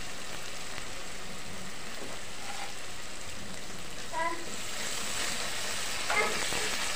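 Tomatoes dropped into hot masala while small fish cook: a steady, bright sizzle hissing throughout, with a few brief spatters and stirring scrapes, a voice speaking faintly over it.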